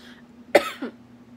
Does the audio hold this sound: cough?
yes